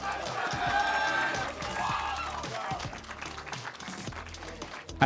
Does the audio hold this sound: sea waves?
no